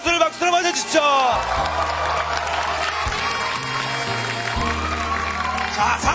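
Audience applause and cheering greet a Samsung Electronics StarCraft player stepping up at a Korean esports team launch ceremony, a steady crowd wash with whoops, under a voice talking over a rhythmic musical backing.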